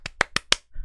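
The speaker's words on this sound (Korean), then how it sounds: "박수!" Four quick, crisp hand claps in a steady rhythm, close and dry, followed by a soft thump, with no talking.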